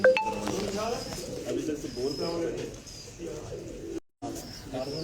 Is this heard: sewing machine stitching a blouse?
no